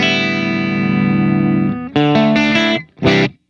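Electric guitar through a Mesa Boogie Mark VII with the gain turned up, slightly hairy but mostly clean: a long sustained chord, then two short stabbed chords and a final hit, loud and close.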